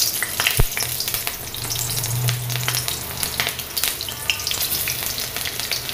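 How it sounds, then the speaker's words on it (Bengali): Potatoes frying for alu chorchori in oil tempered with green chili and nigella seeds, a dense, steady sizzle with occasional clinks and scrapes of stirring. "এই রুটির জন্য আলু চচ্চড়ি বসাচ্ছি। এই রুটির আলু চচ্চড়িও কত কী করবে, এমনিই জাস্ট কাঁচা লঙ্কা কালো জিরে ফোড়ন দিয়েছি।"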